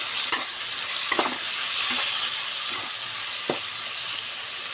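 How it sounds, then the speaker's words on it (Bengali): Onion, tomato and green chilli fry for a fish curry, hissing and crackling steadily in hot oil while a spoon scrapes and stirs the pan several times. "পেঁয়াজ টমেটো কাঁচা লঙ্কা অনেকটা ভাজা ভাজা হয়ে এসছে"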